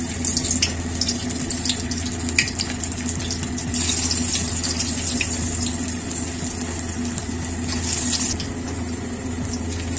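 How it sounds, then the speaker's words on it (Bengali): Onion fritters (piyaju) frying one by one in hot oil in a Bangladeshi home kitchen, a steady loud hiss and crackle running close and unbroken throughout, with no talk. "তেল গরম হয়ে গেছে, এখন আমি এক এক করে পেঁয়াজগুলো দিয়ে দিচ্ছি।"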